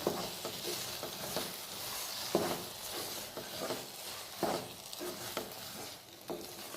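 Wheat sheera being stirred in a pan with jaggery, a steady soft scraping and faint sizzle running throughout with a few louder spoon knocks against the pan, close and alone.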